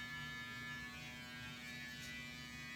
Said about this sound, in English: turning on the trimmer